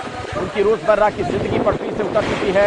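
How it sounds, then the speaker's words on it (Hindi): Strong gusting wind from Cyclone Nisarga making landfall in Mumbai buffets the microphone in a steady roar while someone speaks over it throughout. "आप सुन पा रहे हैं जो तेज हवा बह रही है"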